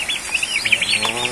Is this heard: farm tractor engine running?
no